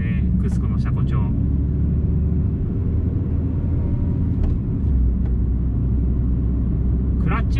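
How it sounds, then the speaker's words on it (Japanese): Road noise inside a moving Honda Civic Type R FD2 on Cusco coilovers with a Seeker muffler, a loud, steady low tire-and-engine rumble filling the cabin, with brief clicks and someone speaking over it. "あとはロードノイズがちょっと大きめかな"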